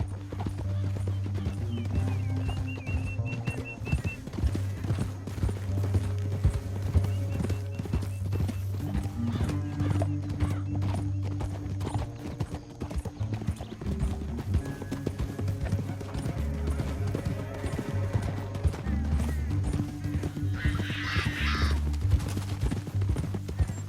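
Horses gallop in Red Dead Redemption II, a loud, steady drumming of hooves running throughout with occasional snorts and a distant burst of gunfire.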